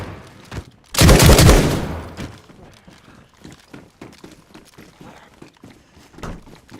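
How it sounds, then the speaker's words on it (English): Gunfire in the survival game DayZ on a winter Chernarus map: one loud, close burst of shots lasting about a second, followed by quieter scattered impacts and footstep-like sounds. "Well, now I've shot."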